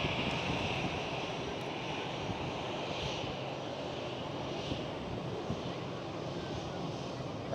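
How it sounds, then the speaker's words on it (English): A KLM Airbus A321neo airliner at Schiphol airport gives a steady, distant engine roar that holds evenly throughout. "Right over there, KLM A321neo."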